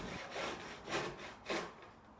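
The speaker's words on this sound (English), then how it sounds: "Just trim any excess off your rails with a saw." A hand saw trims excess off wooden workshop rails, with three rhythmic rasping strokes heard up close and alone.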